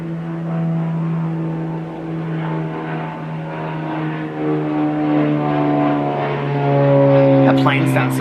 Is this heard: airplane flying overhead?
yes